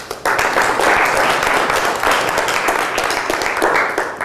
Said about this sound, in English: let's give Peter Jones a big round of applause here